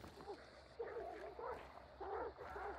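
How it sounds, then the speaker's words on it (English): Dogs bark and yip in bursts at moderate distance in the video game Hunt: Showdown, with a steady low ambient hum underneath and a few quieter yelps between the louder volleys. "Dogs have been alerted outside."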